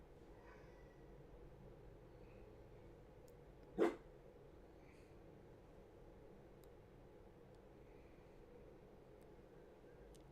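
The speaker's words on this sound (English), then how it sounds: "The dog barked." A dog in a quiet room gives a single sharp bark a few seconds in, moderately close, against a faint steady background hiss with no talking.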